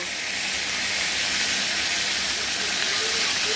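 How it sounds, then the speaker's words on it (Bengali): Two hilsa fish heads fry in hot oil in a wok, producing a steady, dense sizzling hiss that holds at an even level throughout, close and continuous with no pauses. "এবার মাছের মাথা দুটোকে একটু ভালো করে ভেজে নেব।"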